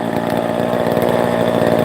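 A chainsaw engine runs at a steady, loud drone for the whole stretch, holding an even pitch without revving up or cutting out.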